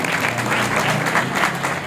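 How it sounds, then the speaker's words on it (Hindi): A burst of audience applause at a Hindu Ram Katha religious discourse, dense and steady clapping from a large crowd, continuing throughout. "ताली की सेवा दीजिए।"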